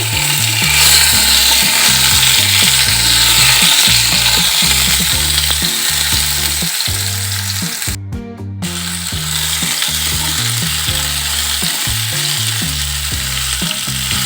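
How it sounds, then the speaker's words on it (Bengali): Raw green mangoes fry and get stirred in a pan for a sweet mango chutney, a loud steady sizzle with rhythmic scraping and clanking of the spatula, briefly interrupted by a short pause. "এখন দিয়ে দিচ্ছি আমগুলো আমগুলো দিয়ে কিছুক্ষণ নেড়ে করে নেব"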